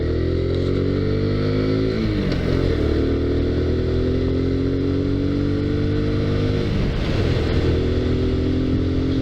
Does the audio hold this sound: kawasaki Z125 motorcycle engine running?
yes